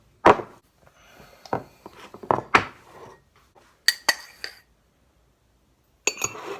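A metal spoon clinks against a cup while coffee is made with sugar, giving several sharp separate taps and scrapes, a few louder bright strikes, then a pause and one last clatter.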